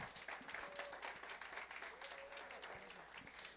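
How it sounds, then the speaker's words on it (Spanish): Congregation applause at a church service welcoming a pastor, a moderately faint, steady wash of clapping heard in a large room without speech. "recibamos con un fuerte aplauso"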